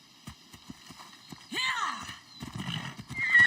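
A horse in the game Assassin's Creed Odyssey clip-clops at a walk, then lets out a loud whinny and breaks into a quicker run with dense hoofbeats, closely miked over a faint ambient tone.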